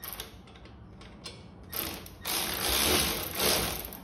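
A power tool runs in short ratcheting bursts, tightening the front hub bolts on a 2017 Chevy Bolt. The whirring grows louder and longer toward the end, close up and with no talk.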